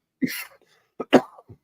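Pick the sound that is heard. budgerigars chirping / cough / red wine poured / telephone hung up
cough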